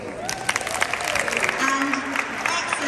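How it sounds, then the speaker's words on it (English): An audience claps in a burst of applause for the British Library at an Open Iftar event held there by the Ramadan Tent Project, with a voice speaking over the clapping. "And just another big huge round of applause for the British Library."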